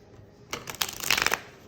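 A brief burst of tarot cards being riffled and shuffled, crisp papery flutters lasting under a second, close and fairly loud against a quiet background.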